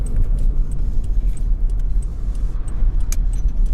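Inside a car pulling up to a parts store, a continuous low engine and road rumble carries on, with scattered light jingling clicks on top and no talk.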